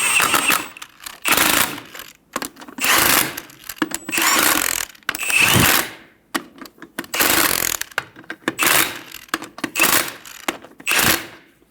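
Ratchet snugging lug nuts on a 2000-2007 Ford Focus during front CV axle replacement, close and loud, in repeated rapid clicking bursts separated by short pauses, with no talk.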